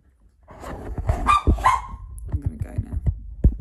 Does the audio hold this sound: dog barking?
yes